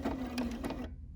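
A 570 sewing machine stitches a decorative pattern in a short, close burst of rapid mechanical whirring and needle clatter, then stops abruptly.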